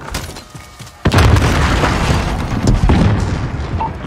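A single heavy boom from a cruise missile explosion in Call of Duty Modern Warfare, on the Crash map in team deathmatch, bursts in loud and close, then leaves a sustained rumbling roar that slowly fades.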